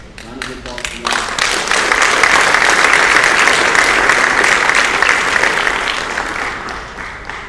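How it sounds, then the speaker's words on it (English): A school auditorium audience at a high school athletics award event applauds a national finalist athlete. Speech trails off at the start, then sustained loud clapping fills the room before easing slightly at the end. "So round of applause for that."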